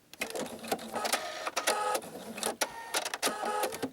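A sewing machine stitching a pillow with faux cording, running in quick mechanical bursts of rapid clattering stitches separated by brief pauses, close and fairly quiet with no talking.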